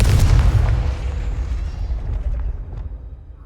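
A Confringo fire spell detonates in Hogwarts Legacy as a heavy, booming game explosion that starts loud and full, with a deep low rumble that slowly fades and thins out over a few seconds.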